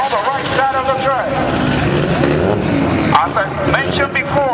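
Pro Rear Wheel Drive drag race car with an inline six-cylinder 2J engine on the right lane of the track during first-round qualifying, a loud continuous engine roar with pitch sweeps, under a commentator's voice.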